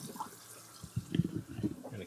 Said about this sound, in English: Time for sink drain test number 1. See if it leaks.